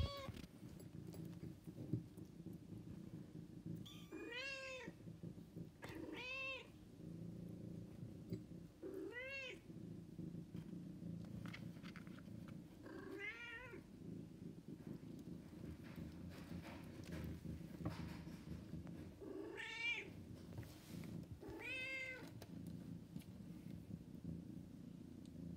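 Kitten meowing, about seven separate rising-and-falling meows spaced a few seconds apart over a low steady hum, fairly close and clear.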